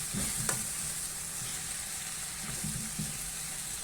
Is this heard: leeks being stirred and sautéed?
yes